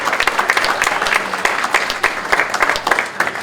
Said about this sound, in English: Please, let's give these people a big round of applause.